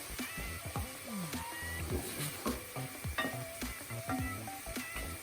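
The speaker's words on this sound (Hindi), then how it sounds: "थोड़ा सा कीमे को हिला लें, पानी निकाल रहा है अपना।" Minced meat sizzles in a hot pan while a utensil scrapes and clicks against it in irregular strokes, close by.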